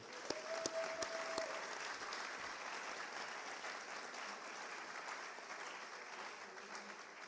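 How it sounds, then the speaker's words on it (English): Audience applause for the recipients at a family recognition and bluffs renaming ceremony, a sustained, fairly soft round of clapping from a crowd, with a few sharp knocks at the start. "ladies and gentlemen, one final big round of applause for all of our recipients"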